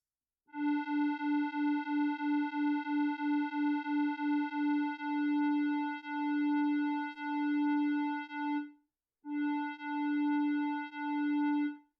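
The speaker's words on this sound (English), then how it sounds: "So this cutoff affects the cutoff of both oscillators." A pure synth tone pulses in a steady rapid rhythm, then settles into longer sustained notes with a brief gap, bright harmonics stacked above, as a cutoff filter shapes both oscillators.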